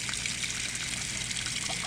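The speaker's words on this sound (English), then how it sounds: "So my plug leaks." Water running and trickling steadily from a leaking drain plug on an RV water heater in a Imagine 17MKE travel trailer, a continuous close hiss with no voices.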